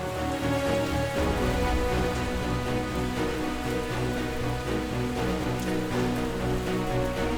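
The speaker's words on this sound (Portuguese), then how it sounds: "as chuvas caem como uma bênção, despertando a vida adormecida pela seca" Steady, dense rainfall in South Africa patters continuously on surfaces throughout, with a soft tonal musical bed running underneath.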